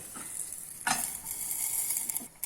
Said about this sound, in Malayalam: കടുക് ഒന്ന് പൊട്ടി വരുമ്പം കറിവേപ്പിലയും മുളകും ഇടാം